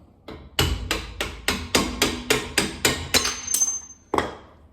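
Repeated hammer blows knocking out the shock absorber bolts on a VW Cabriolet Mk1 during gas tank removal, about ten sharp metallic strikes in a steady rhythm, loud and close, with no talk.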